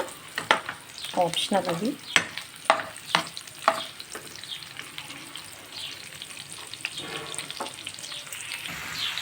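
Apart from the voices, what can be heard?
onions and green chillies frying in a pan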